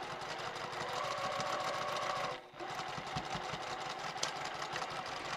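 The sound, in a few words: sewing machine stitching a tote bag seam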